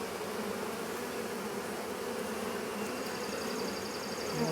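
Bees buzz around a swarm trap at Gilford Lake in a dense, steady drone that stays close and continuous with no voices.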